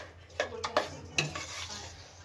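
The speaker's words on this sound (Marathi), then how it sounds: "आता आपल्याला हे सतत हलवत राहायचं आहे" Chana dal cooked with jaggery in a pot on a gas stove is stirred with a spoon, giving a few soft scraping strokes against the pot over a faint sizzle, quiet and close.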